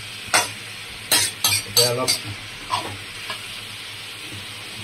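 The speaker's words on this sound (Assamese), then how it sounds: "মাছখিনি অলপ ভাজিম" Swamp eel pieces fry and sizzle in a pan while a utensil stirs them in several sharp, scraping bursts over a steady low hiss, with a brief spoken remark in between.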